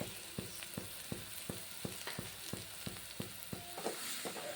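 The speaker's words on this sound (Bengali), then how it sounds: "মশলাটা ভালো করে কষিয়ে নেব" Ground spices with turmeric and salt frying in a pan give a soft sizzle punctuated by regular scraping clicks of a spatula, roughly two or three per second, quiet and close.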